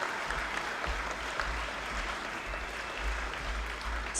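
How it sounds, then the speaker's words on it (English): Steady applause from an audience at a Project Hope Strut For The Cure 2019 charity event, a dense continuous patter of clapping held at an even level throughout with no talk over it. "Let's give a nice round of applause to the Ripleys."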